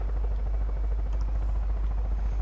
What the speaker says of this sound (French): il repère l'hélico